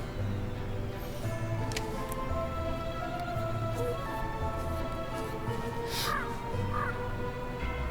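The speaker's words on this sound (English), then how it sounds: "I hear a crow somewhere" A crow caws somewhere in the distance, a few faint calls rising over steady background music and room noise.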